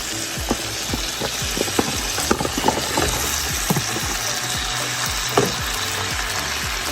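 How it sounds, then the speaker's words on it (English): Diced potato and broccoli stalks dropping into a hot soup pot for broccoli cheddar soup, a loud steady sizzle punctuated by a series of soft thuds and clatters as pieces land and shift, with no talking. "now we're gonna be adding the potato, the diced potato, and the broccoli"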